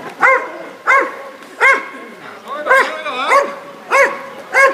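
A police service dog at a service-dog demonstration barks at a suspect: about eight loud, sharp barks in a steady, evenly spaced rhythm, close by, with no other sound between them.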